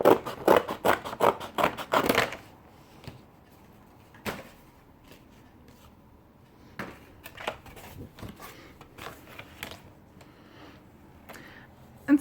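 Scissors snip through paper in a quick run of close, crisp cuts, followed later by scattered quieter snips and rustles in a quiet room.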